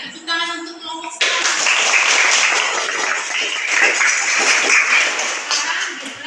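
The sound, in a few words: classroom applause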